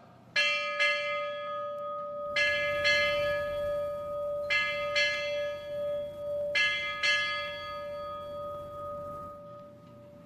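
A ship's bell at a U.S. Navy change of command ceremony rings eight times in four evenly spaced pairs, clear, sustained and resonant, with no talk.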